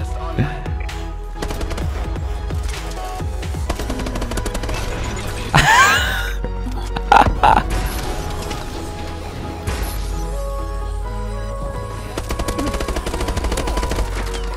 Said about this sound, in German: Wir haben so einen scheiß Geschütz, was glaube ich jetzt mittlerweile auch schon von alleine schießt